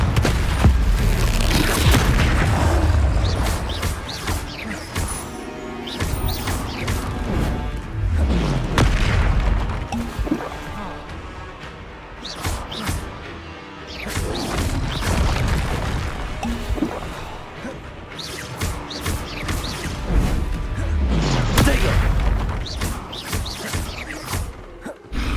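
Repeated blasting-spell explosions in the Hogwarts Legacy video game: heavy booms and crashes in clusters across a busy combat scene, loud and close, with dense rumbling between impacts.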